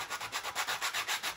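Coarse sanding block rubbed back and forth along the edges of a 1/32 scale model display base, about ten steady rhythmic scrubbing strokes, close and fairly loud with no talk.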